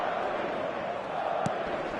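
Steady roar of a stadium crowd in a football video game, a broad constant wash of massed voices with a brief sharp knock near the end.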